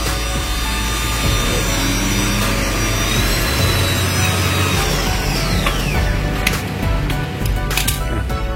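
A stuck bolt is worked loose with a power cutter, producing a loud, continuous harsh grinding and whining that runs the whole time, with no talk over it.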